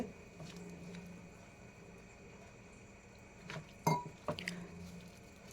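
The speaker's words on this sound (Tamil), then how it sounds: "கொஞ்சம் கொஞ்சமாக தண்ணி ஊற்றி நல்லா அந்த போண்டா பதத்துக்கு நல்லா பிசைஞ்சிக்கலாம்" Bonda batter of wheat flour is mixed by hand with water added little by little, giving faint, sparse wet squishes and squelches. Most of the sound is quiet room hiss, and a few louder splats come near the end.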